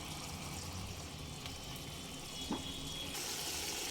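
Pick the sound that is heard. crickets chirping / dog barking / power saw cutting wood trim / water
water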